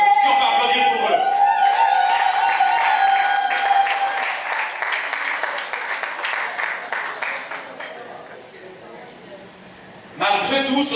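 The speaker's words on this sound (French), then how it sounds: "Mesdames et messieurs, si on peut applaudir pour eux." An audience at a traditional wedding applauds the couple, with dense sustained clapping over music and voices that fades down, then a fresh burst at the end.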